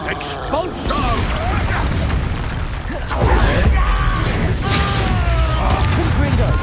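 Expulso explosion spells go off in Hogwarts Legacy, a series of booming bursts and crackling magical impacts layered with game effects, louder after the midpoint, with a voice heard in between.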